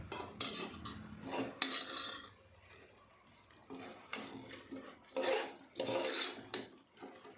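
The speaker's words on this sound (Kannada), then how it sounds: "ನಂತರ ಇದಕ್ಕೆ ಸ್ವಲ್ಪ ಕಟ್ ಮಾಡಿರೋ ಕೊತ್ತಂಬರಿ ಸೊಪ್ಪು ಹಾಕಿ ತಿರುಗಿಸ್ಬೇಕು" Chopped coriander leaves stirred into vangi bath masala in a pan, the spoon scraping and clinking against the metal in several bursts of rubbing, stirring strokes, close up with no talk.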